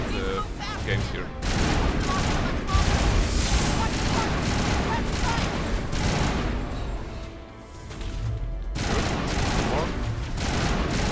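Heavy gunfire in the Mass Effect 1 video game, with dense bursts of rapid shots and booming impacts that continue almost without a break, and a short spoken word over the shooting.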